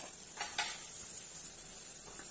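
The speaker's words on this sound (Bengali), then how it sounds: "কিছুক্ষণ এভাবে ডিমগুলোকে আমি খুব ভালোভাবে ভেজে নিচ্ছি।" Eggs frying in oil with spices in a pan, broken into crumbly scrambled bits, give off a steady, fairly soft sizzle with a couple of brief stirring scrapes near the start.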